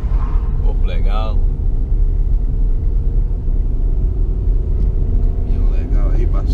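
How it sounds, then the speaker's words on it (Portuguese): Heavy truck passing on a highway in the interior of Pernambuco, Brazil, heard from inside a moving vehicle: steady loud road rumble and engine drone with a brief swell as it goes by, and someone talking over it. "Caminhão legal aí, passou pra direita."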